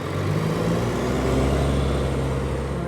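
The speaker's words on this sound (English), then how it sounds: "Or cars and buses." Cars and buses go by with a continuous low engine rumble and road hiss, steady and fairly close throughout.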